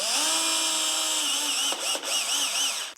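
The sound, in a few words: power drill driving a number 6 screw into wood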